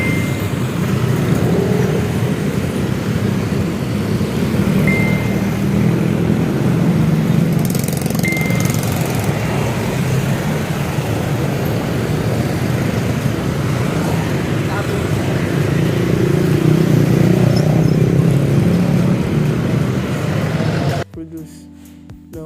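Steady road traffic with cars and other motors passing, a continuous low rumble and hiss throughout, loud and fairly close, with voices faintly mixed in before it cuts off near the end.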